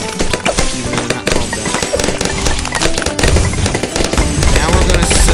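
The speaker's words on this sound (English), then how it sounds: "He's splattering them with the sticky grenades" Sticky grenades go off in rapid succession in Bloons Tower Defense 6. The pops and bursts are loud and dense, with a cluttered layer of game effects and music.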